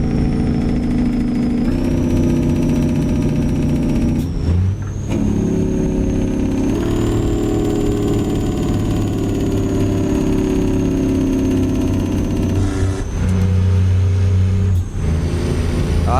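A truck engine idles, heard from inside the cockpit of an owner-operator's rig: a loud, steady low rumble with a constant drone that briefly dips and shifts around a few moments, close and continuous.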